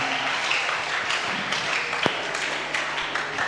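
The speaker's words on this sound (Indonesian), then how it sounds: "Mari kita berikan tepuk tangan buat Tuhan." A church congregation claps together after a prayer during a Christmas-season service in Singapore. A diffuse, fairly even wash of applause runs throughout at moderate distance, with one sharper tap standing out near the middle.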